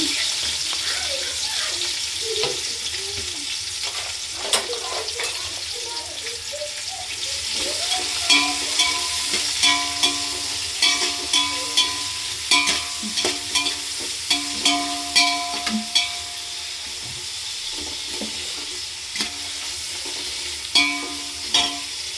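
Onions fry in a pan for dum biryani, giving a steady sizzle with repeated sharp stirring and scraping clicks growing more frequent toward the end, while a voice speaks faintly at times.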